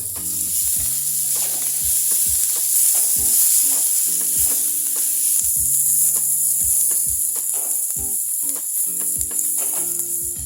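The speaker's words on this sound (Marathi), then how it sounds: "आपले मसाले आता चांगले परतून झाले आहेत" Spices sautéed in a pan for a samosa filling sizzle steadily while a utensil scrapes and stirs in repeated rhythmic strokes, close and fairly loud, without talk.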